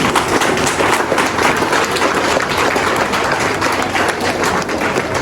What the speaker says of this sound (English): Standing ovation, let's applaud him for 2 reasons.